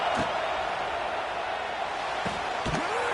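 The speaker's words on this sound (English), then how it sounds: "this home crowd is fired up and ready to make a difference today" Home crowd noise in the College Football 26 video game during an Ole Miss versus Georgia matchup, a dense, continuous roar with a few brief thumps mixed in.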